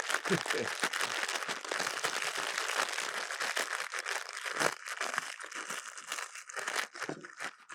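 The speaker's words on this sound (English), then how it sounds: "So you got to give them a little bit of a crush without popping your bag." Tortilla chips crushed inside a closed snack bag for taco in a bag, a dense, continuous crinkle and crunch of plastic and chips close up, with scattered faint voices underneath.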